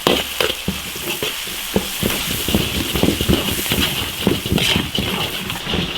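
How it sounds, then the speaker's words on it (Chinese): Red chili oil, Sichuan peppercorns and dried chilies are stir-fried in an iron wok, a steady loud sizzle broken by rapid scraping and clattering strokes of the spatula throughout. "炒着红油、花椒、辣椒"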